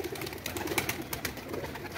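Soft pigeon cooing murmurs in a low, rounded rhythm, fairly quiet against a faint background hum, with no voices.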